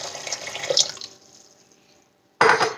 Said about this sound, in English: Then I'm going to add some water. I've got hot water right now.